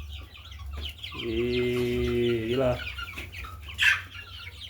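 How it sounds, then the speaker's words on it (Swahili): Chickens on a poultry farm cluck and call, one drawn-out bird cry in the middle with softer clucks around it, close by, while a person speaks faintly. "Kama unavyoona kuku wetu wamekuwa jamani"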